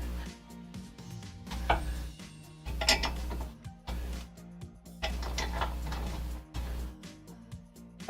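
A socket wrench ratchets on an automotive assembly in repeated bursts of quick clicking, each over a low mechanical hum, with pauses between turns.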